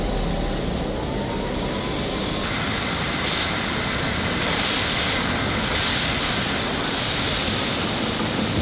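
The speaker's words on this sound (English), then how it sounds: "I posted the first supersonic run of my initial prototype." A supersonic jet engine prototype powered by a turbocharger roars loudly and continuously at close range, a dense steady blast with a thin high whine on top and no voices.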